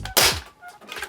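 A Nerf bolt-action sniper blaster loaded with standard AF Pro darts fires once, a sharp close thunk with a quick burst of air, followed by faint mechanical clatter from the bolt.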